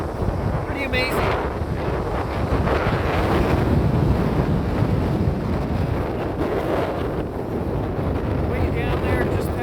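Roaring 70 mph wind gusts at Goat Rock State Beach, battering the microphone in a loud, continuous rumble over surf, with a person speaking faintly beneath the buffeting.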